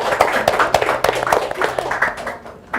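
An audience of mothers at a Mother's Day event in Ngawi claps, a fairly close, uneven patter of hand claps that rises and falls, with faint voices mixed in.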